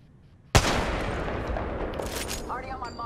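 A single sharp sniper shot in a video game cracks loudly and then rumbles in a long, rolling echo, with a voice talking faintly near the end.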